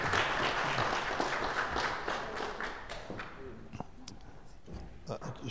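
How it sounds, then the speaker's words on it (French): An audience applauds a speaker named Lucas at a scientific forum, steady dense clapping that thins out over the seconds while a voice talks over it. "on peut l'applaudir, ouais."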